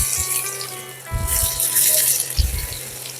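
Chopped garlic drops into about three tablespoons of hot white oil in a frying pan, with a few low clunks of the pan and then a rising hiss of sizzling.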